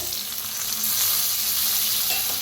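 Tomatoes hit a hot frying pan already holding turmeric and coriander powder, giving a loud, steady sizzle that swells slightly as they land and carries on with faint stirring scrapes, no voices.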